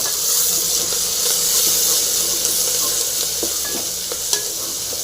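Crushed garlic, curry leaves and coriander fry in a pan for radish and bean sambar, producing a loud, continuous hissing sizzle close up with occasional faint stirring clinks.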